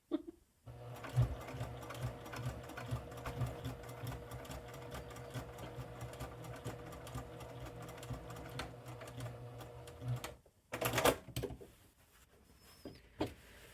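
A sewing machine stitching through several fabric layers, running in a long steady whirring burst of about ten seconds, then stopping, followed by a brief rustle and a few quiet clicks.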